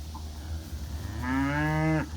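Cattle at a barn, a single drawn-out moo from one animal, fairly close, over steady low background hum.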